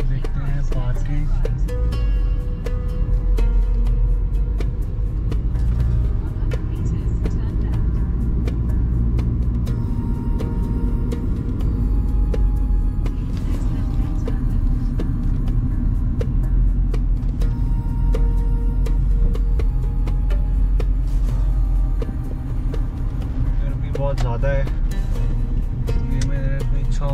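A car driving along a road between Muscat and Sohar, with a steady low engine and road rumble throughout and a person talking over it.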